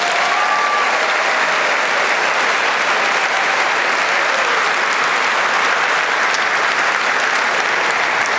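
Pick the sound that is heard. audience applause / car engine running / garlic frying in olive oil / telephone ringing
audience applause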